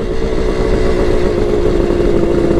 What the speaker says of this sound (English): Bike started up okay. Fired up on the first kick